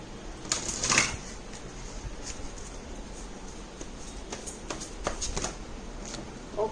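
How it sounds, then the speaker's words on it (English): Tarot cards are shuffled by hand nearby, a steady stream of soft papery riffles and flicks with a few sharper snaps, heard on their own without talk. "I'm just going to be shuffling them here on the side"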